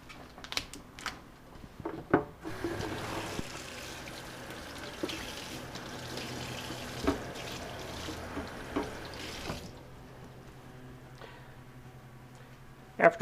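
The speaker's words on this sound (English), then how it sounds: "After washing off the leaves" Aloe vera leaves rinsed under a running tap, a soft steady gush of water with faint clicks and handling noises, framed by brief knocks before and after the flow.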